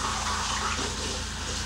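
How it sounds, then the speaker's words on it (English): Tap water runs in a steady stream at a sink while hands are washed under it, a short spell of close, even splashing with no speech. "how to wash your hands guys."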